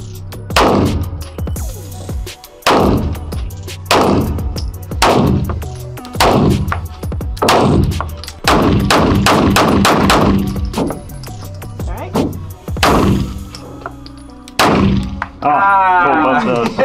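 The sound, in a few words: gunshots fired at a shooting range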